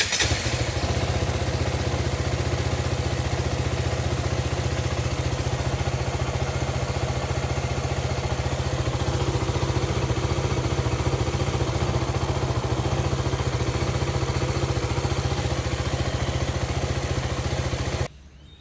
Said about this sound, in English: now I will go ahead and start the bike.